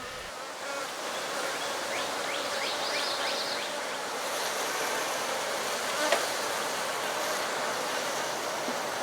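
Honey bees buzz steadily in an opened beehive after two colonies were combined into one large hive, a dense continuous drone up close with a few louder individual bees passing near, and no talk.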